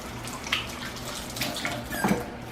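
Tap water running briefly for a quick rinse in a kitchen, a soft splashing flow with a few faint squeaks, close and low in level.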